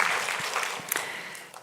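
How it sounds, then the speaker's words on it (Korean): Church congregation clapping in brief applause during a Sunday service, a dense patter of many hands lasting under two seconds. "우리 박수로 격려하겠습니다."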